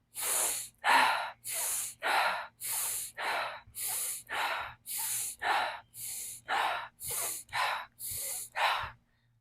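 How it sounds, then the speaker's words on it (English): A fast, steady run of about fifteen forceful breaths in a breathwork exercise, close and loud, each sharp inhale and exhale following the next with barely any gap, no talking. "a little bit more faster paced breaths"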